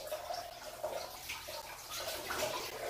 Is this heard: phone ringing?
no